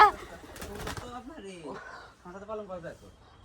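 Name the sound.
pigeons cooing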